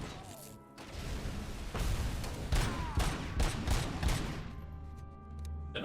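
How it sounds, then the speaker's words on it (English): Exploding-bullet gunfire in the game Robocop: Rogue City, a series of loud, punchy shots and blasts in irregular bursts, close up, with a low rumbling background between impacts. "Use my exploding bullets"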